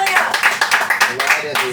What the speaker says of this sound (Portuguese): Vamos receber com as palmas alegres